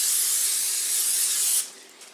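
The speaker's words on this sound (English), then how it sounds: "just spritz it with non-stick vegetable spray." Non-stick vegetable cooking spray spritzed onto a roughly 9 by 13 inch casserole dish, one steady close hiss lasting about a second and a half before cutting off into quiet.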